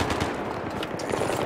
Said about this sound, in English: I've never tried out this silent shotgun before